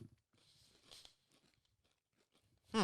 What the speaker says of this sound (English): I'll let you hear the crunch